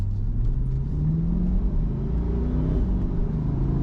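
A Chevrolet Corvette C8 engine drones steadily while driving through city streets, a loud continuous low rumble from inside the car with gradual shifts in pitch, no talking.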